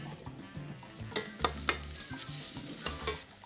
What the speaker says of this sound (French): Notre marmite est chaud à côté, un petit filet d'huile. Nous mettons nos oignons, nous mettons notre gingembre et notre ail.